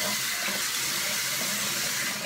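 Hot water runs steadily from a tap into a sink for rinsing after a straight razor shave, a continuous close splashing hiss with no talking over it.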